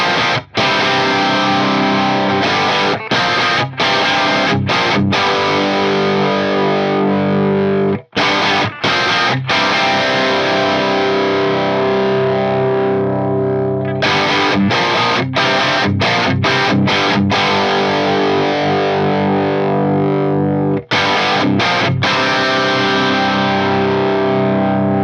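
A heavily distorted electric guitar plays through an Axe-Fx III Marshall amp simulation with EL34 tubes, crunchy tube-style tone, sustained chords with brief pauses, loud and continuous without any talking.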